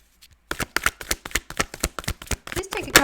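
Tarot cards are shuffled by hand in a quick series of crisp, regular riffling slaps, close and loud, with a brief voice at the end.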